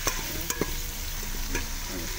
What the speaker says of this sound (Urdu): یہ فرائی ہو رہا ہے، پیاز کی فرائی بھی فرائی ہو رہا ہے۔